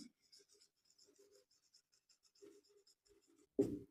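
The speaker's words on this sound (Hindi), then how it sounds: "तो पहले एंजाइम का नाम लिखते हैं" Someone writes on a board, faint scratchy strokes in short bursts with gaps, ending in a louder tap or bump near the close, with no talk.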